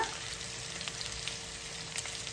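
Green chillies frying in a pan for a chicken fry, a soft, even sizzle held steady throughout with faint pops, close and without speech.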